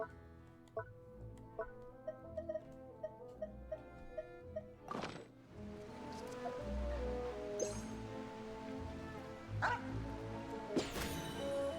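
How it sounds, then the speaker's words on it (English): A dog in the video game Genshin Impact yips and barks in short bursts over game music, fairly faint and mixed with a few thumps and clatters, with no talk. "that's not an item I saw, it was a dog"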